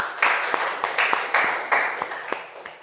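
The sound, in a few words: applause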